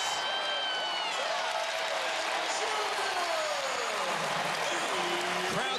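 A college basketball arena crowd roars and applauds after Derrick Walton's fast-break finish against Furman, a loud, steady wall of cheering that holds for several seconds, with a commentator's voice faintly under it.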